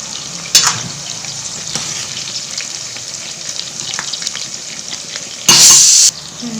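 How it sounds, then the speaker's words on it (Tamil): Onions and fennel seeds fry in hot oil for a mutton masala, a steady close sizzle running throughout, with a short utensil knock early on and a louder hissing burst near the end. "எண்ணெய் ஊற்றி சோம்பு போட்டிருக்கேன், வெங்காயம் 2 வெங்காயம் போட்டு தாளிச்சிக்கிட்டு இருக்கேன்"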